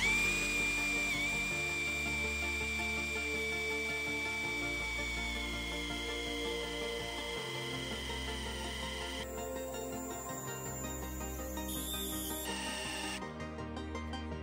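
A Parkside PSBSAP 20-Li C3 hammer drill on speed two with a big bit and 8A battery grinds loudly and continuously, its motor pulsing in repeated low surges as it strains, with no talking.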